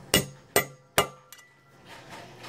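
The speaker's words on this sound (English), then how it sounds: "You're gonna hammer it. Hammer it down." A hammer taps a socket to seat a valve stem seal on a K20 cylinder head: three sharp, evenly spaced metallic strikes, close and ringing, then a lighter tap and quiet shuffling.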